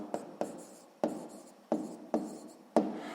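Pen strokes scratch across paper while a math exercise is worked by hand, six short sharp scratches in an uneven rhythm, close and fairly quiet, with no talking.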